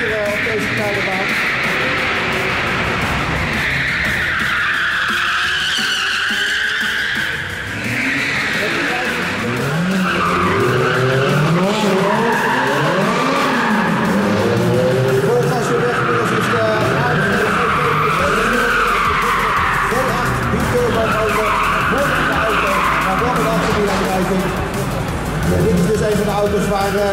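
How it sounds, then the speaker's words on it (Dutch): Race cars on a small indoor track at the Amsterdam motor show accelerate hard with engines revving and tires squealing continuously, while a commentator talks loudly over the noise throughout. "het accelereren met deze auto's gaat behoorlijk goed hier op deze kleine baan"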